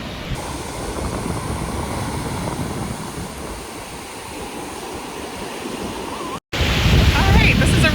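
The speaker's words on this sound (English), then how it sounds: "Alright, this is a really nice beach. We're just here enjoying the water" Ocean surf rolls steadily onto the beach at Nouakchott, Mauritania, as a continuous broad wash with wind buffeting the microphone, briefly cutting out and then returning louder and closer.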